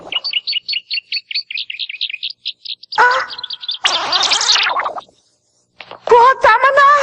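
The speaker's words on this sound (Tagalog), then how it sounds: "Ito pala mga ibon na to, mga kaibigan mo" Birds chirping in a rapid run of repeated high tweets, followed by bursts of louder squawking calls and further chatter.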